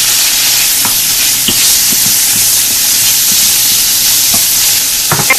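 Onion cooks in a pan with cumin seeds, turmeric, ginger and garlic paste, giving a close, loud, steady sizzle and hiss with a few faint clicks of stirring, and no voices.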